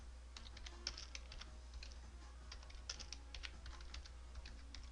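A password is typed on a computer keyboard, a quiet irregular patter of light key clicks in quick bursts over a faint steady hum.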